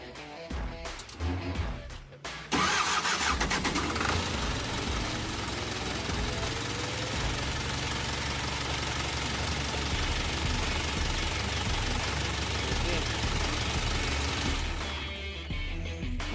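An Isuzu 4HF1 diesel engine with a hard-starting fault cranks in short bursts, then fires and settles into a loud, steady knocking idle heard up close. The idle fades slightly near the end.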